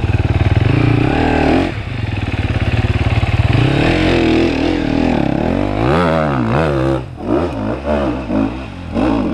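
Motorcycle engine revving hard on the throttle at a riders' meet, loud and close, with rising and falling pitch sweeps from repeated blips toward the end.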